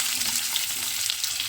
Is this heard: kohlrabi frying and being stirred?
yes